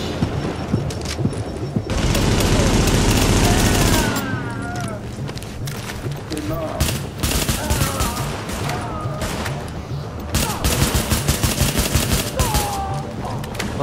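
Dense bursts of gunfire from the third-person shooter Tom Clancy's The Division: a loud sustained volley early on, then repeated rapid shots and impacts continuing through the scene, with no voices.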